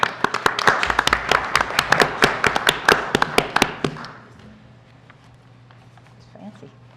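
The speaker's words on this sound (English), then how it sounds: "So do we clap now, Dwayne?" A handful of people clap at a county meeting, the sparse, fairly close claps running for about four seconds before stopping into a quiet room with low hum.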